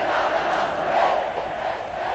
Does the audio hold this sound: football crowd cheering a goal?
yes